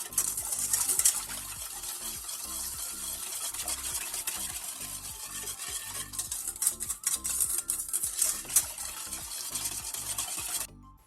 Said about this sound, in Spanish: Vamos a remover para que se deshaga bien.